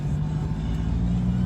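A used truck drives down a road, its engine and road noise forming a steady, loud, low drone heard from inside the cab.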